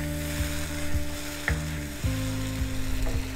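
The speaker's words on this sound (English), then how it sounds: "I don't know if you can hear this, but it's sizzling so nicely." Fish fries in a hot pan with a continuous close sizzle. A few soft clanks of the pan are heard through it, and no one speaks.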